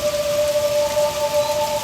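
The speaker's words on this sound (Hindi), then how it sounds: "बारिश हो रही है।" Rain falls steadily, a dense even hiss of drops with a faint tonal hum running underneath, continuous and without talk.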